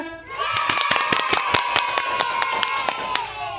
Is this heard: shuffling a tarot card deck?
no